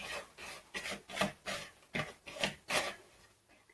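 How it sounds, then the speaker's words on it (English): Spatula scraping and folding chocolate chip cookie dough in a mixing bowl, a series of rhythmic rubbing strokes roughly every half second, close and moderately loud with no talking. "We're going to use our spatula to make sure everything is mixed up nice and evenly."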